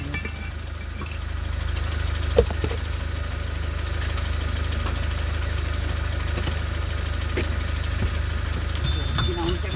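A car engine idles steadily with a low continuous rumble while the electric parking brake is disengaged during brake disc and pad work, and a few faint clicks and knocks sound over it.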